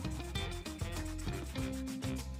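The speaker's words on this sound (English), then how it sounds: "I used some dish soap to go through the carpets, rub them with a brush, and try to get all the dirt out." Dirty car carpet mats from a Skoda Fabia scrubbed with a brush and dish soap, a close, continuous back-and-forth bristle rubbing with a steady rhythm and no talking.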